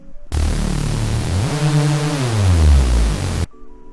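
A thick, buzzing reese synth bass made in Serum with a gritty noise oscillator layer, sustained loudly for about three seconds and sliding in pitch partway through.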